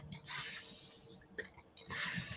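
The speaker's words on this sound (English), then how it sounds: "I wonder if I should try spraying it." Spray bottle misting fabric, heard as a few short, close hissing bursts separated by brief pauses, quiet overall.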